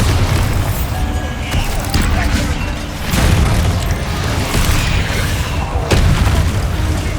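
Bombarda exploding spell in Hogwarts Legacy: loud successive booming blasts with crashing impacts amid continuous combat noise, and a voice speaking faintly underneath.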